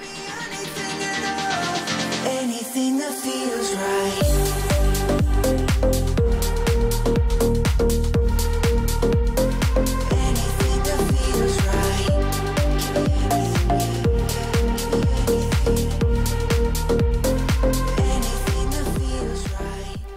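Electronic dance track, opening with a filtered build and a rising sweep before a driving beat with deep bass and bright synth chords plays steadily and loud.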